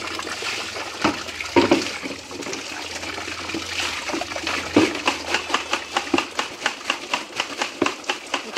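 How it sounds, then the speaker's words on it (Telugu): An emptied oil can being washed out with poured water, sloshing and trickling with a run of regular clattering knocks toward the end as the metal tin is handled. "ఇప్పుడు మొత్తం అయితే ఇది కడగాలి వాటర్ పోసుకొని."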